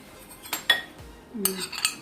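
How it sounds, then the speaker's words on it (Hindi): A spoon clinks and scrapes against a bowl while mixing Russian salad with cream, mayonnaise, apple and banana, a few sharp taps and soft stirring up close, with no talk. "अब सबको मिक्स करती हूँ अच्छे से।"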